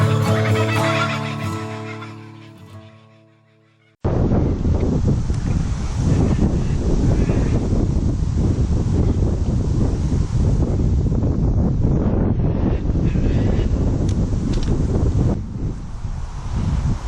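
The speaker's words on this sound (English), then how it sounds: "I absolutely loathe fishing in the wind" Strong wind gusts buffet the microphone at a carp fishing spot, a loud continuous broadband roar filling most of the clip after a brief quieter opening.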